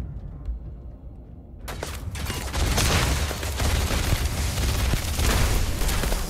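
Rapid bursts of gunfire from a tweaked gun in Starfield, loud and sustained with dense overlapping shots and booms after a brief quiet opening.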